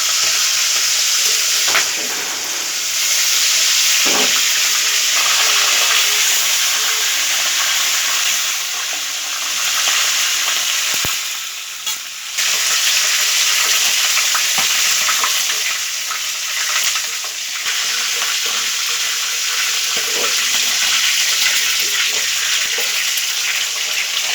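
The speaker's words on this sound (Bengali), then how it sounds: "যে গরম তেলে এটা সুন্দর করে ফ্রাই করা হবে" Chicken pieces fry in hot oil for a roast, a loud continuous sizzle and crackle with occasional stirring clatter and brief dips, close and without talk.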